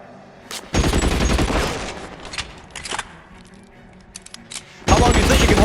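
Loud bursts of gunfire crackle and boom during a shootout in LA Noire, with a heavy volley at the start, scattered shots through the middle and another intense burst near the end.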